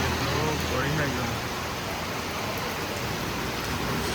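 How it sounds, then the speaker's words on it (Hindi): Steady broadband rain falls across an open outdoor area, a dense continuous hiss with no breaks, with a faint passing vehicle-like rumble underneath. "देखो पूरी जगह बारिश हो रही है"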